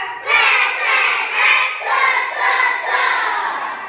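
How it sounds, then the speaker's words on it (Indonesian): A primary-school class of fourth graders claps in rounds for a counted clap game, making several loud, rolling surges of clapping with excited children's cries throughout. "Tepuk tiga."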